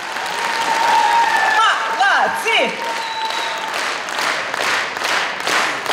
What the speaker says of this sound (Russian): Аплодисменты ваши, друзья